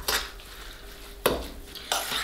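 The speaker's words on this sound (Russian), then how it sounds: "И все хорошенько перемешиваю." About 600 g of cottage cheese with homemade egg yolk is stirred by hand in a bowl for a vatrushka filling, giving three quiet, close scraping strokes spaced apart.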